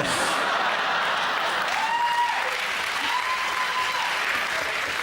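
Studio audience applause following a crude topical joke on a British comedy panel show, a steady dense wash of clapping sustained loud throughout, with faint whoops or cheers rising briefly in the middle.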